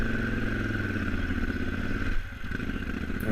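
A KTM 950 motorcycle engine labors at low RPM, with a close, rough, uneven putter and clattery mechanical noise that dips briefly partway through before picking back up.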